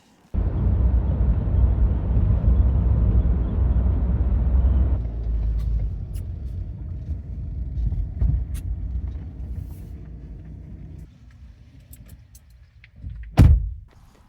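A campervan rolls along, its engine and road noise a steady low rumble that softens as it slows. Scattered clicks and knocks follow, then one loud thump near the end.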